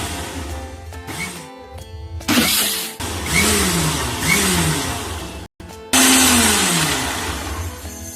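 A kitchen mixer grinder blends a milk and mango ice cream mixture in loud whirring bursts, the motor pitch rising and falling, with short stops between runs.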